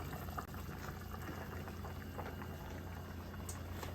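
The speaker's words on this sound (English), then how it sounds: "now that we've had the soup boiling for about 30 minutes" Potato leek soup boiling steadily in a pot, a constant close bubbling and simmering texture with small pops, no talk.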